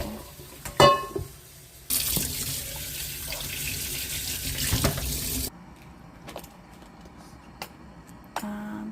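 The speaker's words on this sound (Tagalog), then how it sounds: "Then drain the water and wash again with cold water." Cold tap water runs into a sink as boiled meat is rinsed for a Chinese lotus root soup, a steady broadband rush lasting several seconds and then cutting off, with a few faint clinks and drips before and after.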